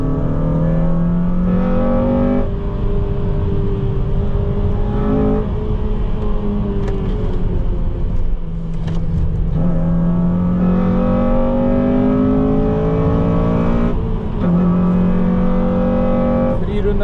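Race car engine at Knockhill Racing Circuit revving hard from the cockpit, a continuous loud drone with rising pitch sweeps as it climbs through the gears and brief dips at shifts, with a voice talking over it.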